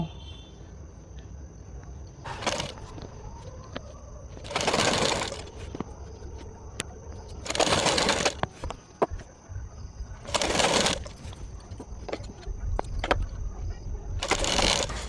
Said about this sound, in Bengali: ঠিক এই দাগে দাগে কিন্তু আমরা সেলাই করে নেব